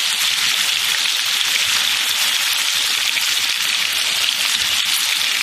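Steak frying in a hot pan with garlic and rosemary, giving a dense, even, close sizzle that holds steady throughout with no talking.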